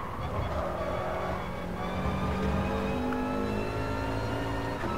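A rival race car engine in the Gran Turismo Sport video game gives a steady droning whine with shifting pitch, sustained and fairly loud with no break, and no talking.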